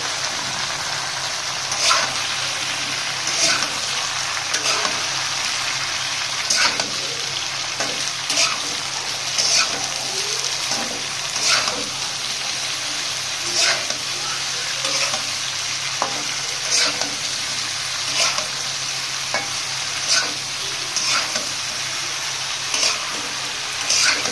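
Potatoes and pointed gourd frying with spices in a pan, a constant hissing sizzle broken by regular scraping strokes of a stirring utensil, close and fairly loud throughout, without speech.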